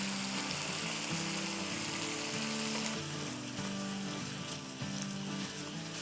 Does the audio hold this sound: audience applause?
no